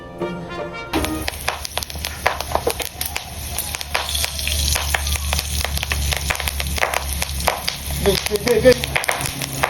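Coconut chips frying in hot oil, a dense loud crackling sizzle that spits and pops continuously after a short quieter start.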